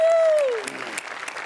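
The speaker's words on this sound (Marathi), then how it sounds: "श्यामेसाठी एकदा टाळ्या वाजवल्या पाहिजे" Studio audience applause for Shyam on a Marathi comedy show, clapping that rises as a sustained tone fades, then a steady patter of claps that continues to the end.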